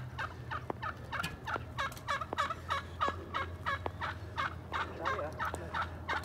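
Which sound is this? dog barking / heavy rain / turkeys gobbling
turkeys gobbling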